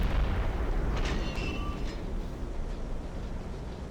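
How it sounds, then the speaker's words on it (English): Naval gun rounds booming and striking ships in the Silent Hunter 3 submarine game, a deep rolling rumble of distant detonations sustained at moderate loudness. "There goes another round. Another hit. Another detonation on board."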